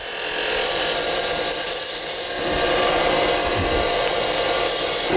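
A spindle gouge cuts a cove in wood spinning on a lathe, a continuous bright scraping hiss that dips briefly near the middle before the cut resumes, steady and close.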